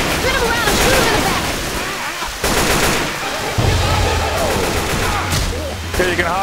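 Rapid bursts of gunfire from a zombie shooting video game fill the stretch, loud and nearly continuous, with short breaks, mixed with in-game noise and a player talking over it.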